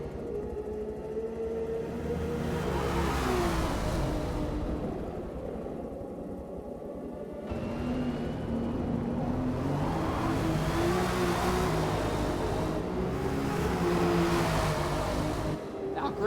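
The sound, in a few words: race cars accelerating in a GT racing video game at Sebring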